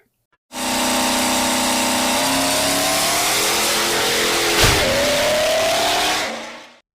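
A 5.9-liter common-rail Cummins diesel swapped from a 2006 Dodge 2500 into a Ford F-350 crew cab long bed revs loud and close, a sustained rising engine drone that climbs in pitch, briefly dips, then cuts off.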